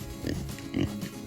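Kunekune pigs on a farm give two or three low, short grunts, close by and moderately loud, with a little faint background voice.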